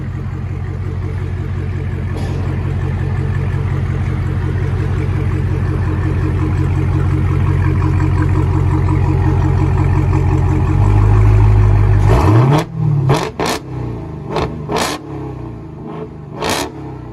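A Dodge Challenger Hellcat with a supercharged 6.2L HEMI V8 and muffler delete idles with a deep loud burble, then rises in a rev before several sharp, brief throttle blips near the end.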